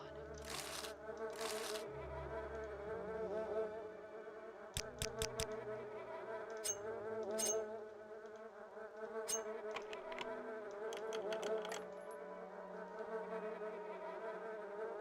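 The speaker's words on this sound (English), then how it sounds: "I hate that fly buzzing noise." A fly buzzes steadily in the video game Morrowind, a close, wavering drone running throughout at low level with a few brief clicks over it and no talk.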